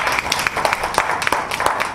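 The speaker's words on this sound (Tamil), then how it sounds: "பெரிய கைத்தட்டல்." An audience claps for an award-winning journalist at a Singapore literary evening, a dense patter of many hands close by that keeps up for a couple of seconds before ending abruptly.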